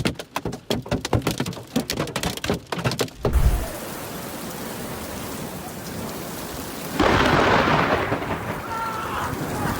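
Lightning strikes near a rain-soaked soccer game, first a rapid crackle, then a sharp, heavy thunderclap, followed by steady rain and a louder wash of downpour or wind near the end.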